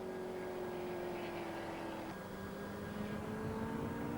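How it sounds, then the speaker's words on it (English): A racing car on a famous European circuit revs with a sticking throttle, engine tones hanging high and falling only slowly, heard fairly far off and faint under a steady roar. "The enthusiasts will notice the engine revs not dropping as quick as they should."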